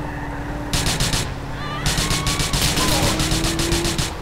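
Rapid bursts of gunfire in Grand Theft Auto IV rattle in two volleys over a steady engine-like hum and game sounds.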